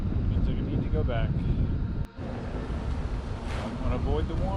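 Wind buffets a microphone outdoors in rainy Tampa, a steady low rumble running through the whole stretch, briefly dropping out midway, while someone talks over it.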